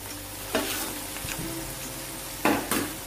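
Dried anchovies fry in a pan for sambal teri with a steady soft sizzle, while a spatula stirs and scrapes against the pan in a few sharp bursts, with no talking.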